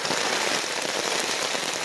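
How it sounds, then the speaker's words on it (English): Heavy rain drums steadily and loudly on a tent rainfly during a freezing backcountry thunderstorm in a forest, a dense unbroken patter with no voices. "it is raining"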